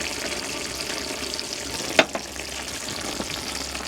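Beef frying in a pan during van-life meal prep, with a steady close sizzle throughout and a few stirring clicks and scrapes of utensils against the pan.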